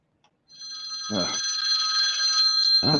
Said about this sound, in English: My phone also made a bunch of noise at the same time.